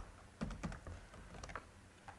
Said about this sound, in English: I'll just type in my YouTube name